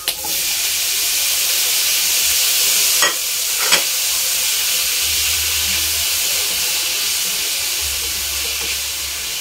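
Tomatoes sauté in a pan for ginisang monggo, giving a steady, loud sizzle and hiss throughout with a few brief clinks of a utensil stirring.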